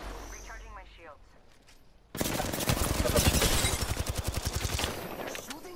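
Apex Legends firefight: after a quiet moment with a brief voice, a loud sustained burst of rapid automatic gunfire erupts and keeps rattling in an even, fast rhythm for several seconds.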